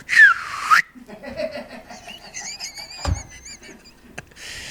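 Slide whistle playing a quick rising then falling swoop, loud and close, followed by quieter background sounds.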